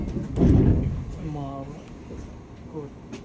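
Train doors slide open with a loud, close whoosh and thump near the start, then a calm recorded announcement plays over the quieter hum of the carriage.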